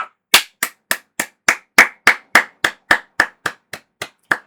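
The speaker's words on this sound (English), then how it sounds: "Round of applause, boys." A single person's hands clapping alone, about fifteen sharp, evenly spaced claps in a steady rhythm, close and loud with silence between each.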